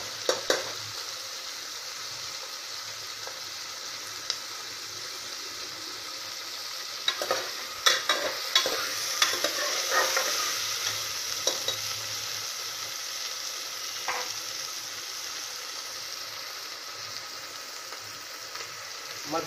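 Whole masoor dal stirred and roasted in a pan over medium heat: a soft continuous sizzle with scattered spoon scrapes and clicks, a busier stretch of stirring midway, close but fairly quiet, and no voices.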